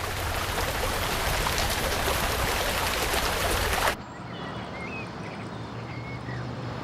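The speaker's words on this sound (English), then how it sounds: "Home House is hit by the worst rain for 20 years." Heavy rain, the worst in twenty years, falling at a house as a dense, loud, steady hiss that cuts abruptly to a softer wash of rain and water.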